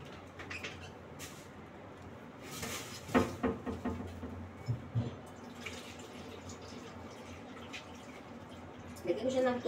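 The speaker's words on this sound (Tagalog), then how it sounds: "Lagyan ko siya ng tubig." Water trickling and splashing into a flower arrangement container, with scattered drips and small bursts of pouring against a quiet room background.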